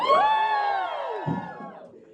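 A young audience lets out a loud, sustained cheer of whoops and shouts that swells at once, then trails off and fades over about two seconds.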